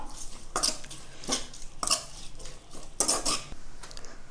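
A metal spoon clinks and scrapes against a pan in a few distinct bursts as tomatoes are sautéed, each stroke bright and close, with quiet gaps between.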